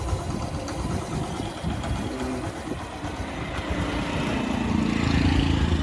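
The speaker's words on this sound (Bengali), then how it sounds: "বাইকের সাউন্ডটা দেখেন কেমন আছে," A Yamaha Saluto 125 motorcycle engine idles close by in a steady, continuous rumble that grows slightly louder toward the end.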